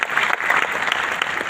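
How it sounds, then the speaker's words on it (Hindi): Audience clapping in a dense, steady burst, fairly loud and close, lasting just over a second with no voices. "एक बार जोरदार तालियां"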